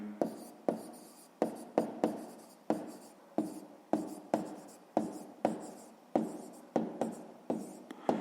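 A pen writes an answer by hand on paper in short, crisp strokes. About twenty quick scratches come in an irregular rhythm, close and quiet, with no talk.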